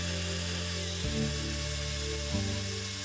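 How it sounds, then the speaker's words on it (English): Power drill bit boring through a rubber shoe sole into a scrap wood block, a steady whining motor tone that shifts pitch twice as the load changes, continuous and close. "Once you feel the drill bit fully penetrate the sole and go into the scrap piece of wood"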